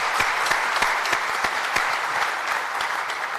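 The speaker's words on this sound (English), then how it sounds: "applause, ladies and gentlemen." Audience applause at a talk with Sadhguru, a steady patter of many hands clapping at a moderate distance, with no speech over it.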